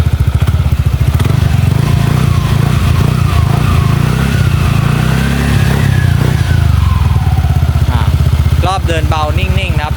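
An older Yamaha Nmax scooter with a noisy engine runs at a steady, close-up idle, its low rhythmic putter continuing throughout while a voice talks nearby.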